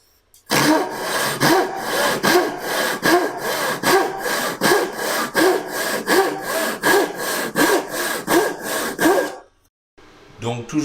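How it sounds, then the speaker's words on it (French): A Silky Woodboy 240 Japanese pull saw cutting through wood in steady, even strokes, each pull giving a close, rasping scrape, about a dozen and a half in a regular rhythm before stopping abruptly. "On passe maintenant à la scie japonaise, la Woodboy 240."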